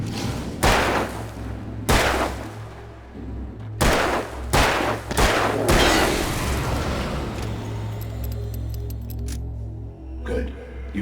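Gunshots in the Alan Wake video game: several loud, sharp single shots spaced a second or two apart, followed by softer rumbling game ambience and scattered clicks.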